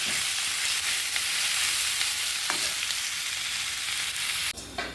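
Mushrooms fry in a pan with a steady, bright sizzle that runs throughout, nearby and fairly loud. A few faint clicks of stirring come through, with a sharper clatter near the end.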